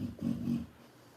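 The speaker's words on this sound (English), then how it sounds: "excuse my dog while he snores." A dog snores once, a single low, rough rasping breath that swells and fades over about half a second, close by and quiet, with no talking.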